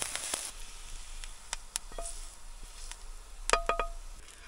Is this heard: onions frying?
yes